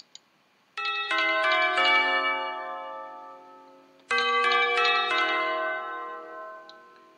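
A melodic bell chime sample plays twice, each a cluster of bright struck tones that ring out and decay slowly, clear and alone with no talking.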